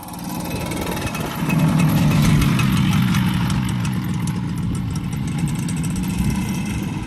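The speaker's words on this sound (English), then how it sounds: "Now I'm going to go to the field in the tractor and wait for them." A tractor engine idles steadily at close range on a farm yard, a continuous low rumble that thickens slightly after a moment and holds at a constant level, with no voices.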